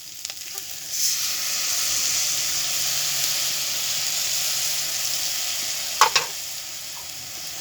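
Spices fry in hot oil with a steady, continuous sizzle as turmeric goes into the pan, followed near the end by a couple of brief metallic clinks.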